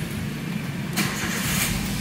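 A Toyota Rush engine cranks and catches about halfway through, then settles into a steady close idle. It starts again right after a manual ECU reset, and no one talks.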